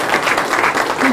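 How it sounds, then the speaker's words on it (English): Close, loud audience applause for a speaker at a university event, a dense steady clatter of clapping with slight pulses and a voice briefly audible underneath. "So let's give a special round of applause for Susan."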